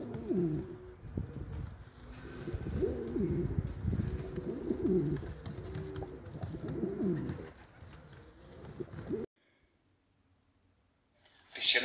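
Pouter pigeons coo in a loft, repeated low throaty rolling calls overlapping close by for several seconds, then a pause of silence and a brief sharp noise at the end.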